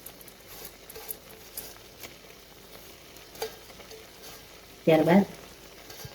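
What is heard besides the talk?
basmati rice being stirred into sizzling chickpea pulao pot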